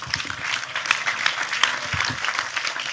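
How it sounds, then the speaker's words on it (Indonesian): An audience at an Islamic gathering applauds for Tejo, a dense, sustained wash of clapping from many hands, fairly close and steady throughout. "Sekali lagi tepuk tangan lebih keras untuk Tejo"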